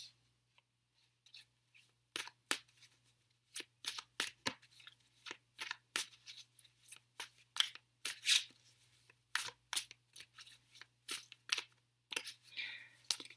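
Tarot cards from the Greenwich, Wildwood and Druidcraft decks are shuffled by hand in a quiet room, producing many soft, quick papery riffles and slaps in irregular bursts over a faint steady hum.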